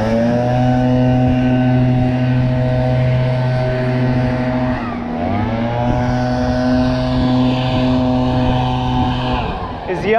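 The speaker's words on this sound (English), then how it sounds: "Another blower over here." A leaf blower engine runs steadily and close by for the whole stretch, a loud droning hum with a brief dip in pitch midway, heard outdoors during tree-felling work with a voice talking over it.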